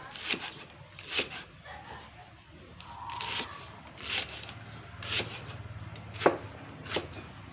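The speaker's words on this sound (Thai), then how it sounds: "ต้องหั่นตะไคร่ก่อน" Knife chopping lemongrass on a board while preparing a Thai eel dish, about eight sharp, evenly spaced chops close by, with a person speaking quietly in between.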